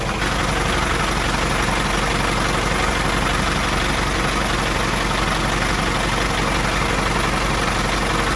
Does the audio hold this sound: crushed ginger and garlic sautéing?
no